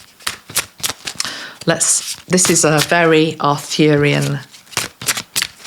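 An oracle card deck is shuffled with crisp, rapid papery riffles and taps at the start and end, partly beneath close spoken talk.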